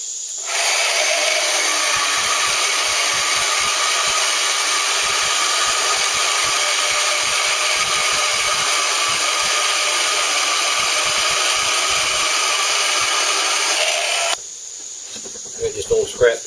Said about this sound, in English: this is a 14 TPI blade. I've got it set on number 4. This is just a piece of 2x4 stud.